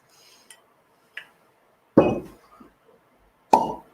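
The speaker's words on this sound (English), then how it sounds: "this cork pop was amazing" A cork pulls from a bourbon bottle with a few soft plops and two louder hollow pops spaced a second or more apart, close and clear against near silence.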